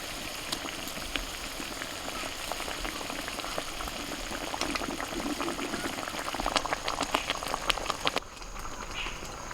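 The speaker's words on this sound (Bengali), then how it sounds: "গ্রেভিটা ফুটছে" Gravy boiling in a pot after water was added to fried spices, a steady close bubbling with soft irregular pops throughout, dipping briefly near the end.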